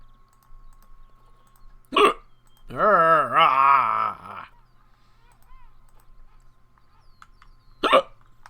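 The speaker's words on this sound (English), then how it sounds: "I wasn't kidding about them hiccups." A man hiccups while playing a zoo-building game: two sharp, loud hiccups several seconds apart, with a drawn-out moaning vocal sound between them.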